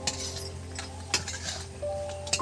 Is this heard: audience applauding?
no